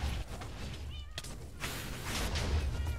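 A cat meows in modded Minecraft, a short high mew rising out of steady game background noise, fairly faint with low rumbling sounds around it.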